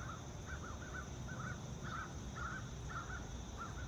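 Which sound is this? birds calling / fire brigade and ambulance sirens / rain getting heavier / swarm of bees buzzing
birds calling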